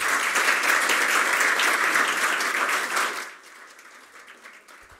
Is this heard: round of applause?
yes